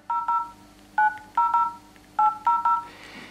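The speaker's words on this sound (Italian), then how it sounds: "Proviamo a chiamare il nostro numero di test" A Vodafone Smart 4 Mini phone sounds a quick run of DTMF dialing tones, eight short beeps grouped in bursts, clear and close with no talking.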